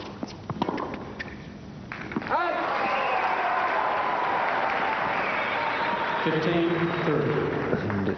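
Tennis crowd at an indoor singles final in Sydney with South American supporters, applause and cheering swelling into a sustained roar, with a commentator talking over it and chant-like tones near the end.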